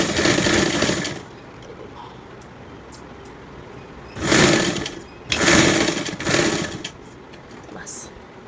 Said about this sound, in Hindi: अब यहाँ से इसको ऐसे करके हम ये सिलाई कर लेंगे बराबर करके इधर से